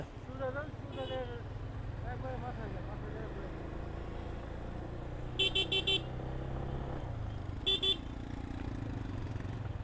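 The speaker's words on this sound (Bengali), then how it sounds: "ইঞ্জিনের সাউন্ডে বেস মোটামুটি ভালো, কিন্তু খুব বেশি লাউড না ইঞ্জিনের সাউন্ড" A Yamaha FZ25 motorcycle engine hums steadily at low pitch while riding through traffic, with a few short bursts of car horns from nearby vehicles and a voice faintly audible at the start.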